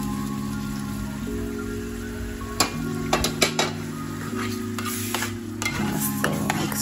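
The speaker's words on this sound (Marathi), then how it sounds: "मस्त मिक्स करून घ्यायचं एकत्र।" Mashed, cooked pav bhaji vegetables being stirred into hot tempering in a pan, with a steady sizzle underneath and scattered scraping clinks of a spoon against the pan, no voices.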